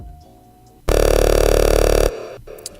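A single loud, growling filtered FM synth bass note made in Serum, held for just over a second, starting and stopping abruptly, with quiet background around it.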